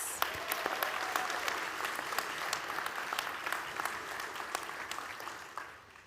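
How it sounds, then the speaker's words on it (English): Steady applause from a crowd at a high school graduation, dense clapping that holds for several seconds before tapering off at the end, with no voices over it. "So let's give ourselves a round of applause."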